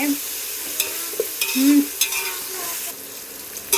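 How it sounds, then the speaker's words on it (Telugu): Tomatoes and onions softening in a pan for pulao, a steady close sizzle with the scrape and clink of a spoon stirring through them at intervals, no talking. "మనకి ఒక టమాటాలు ఉల్లిపాయలు అలా మగ్గుతున్నాయి"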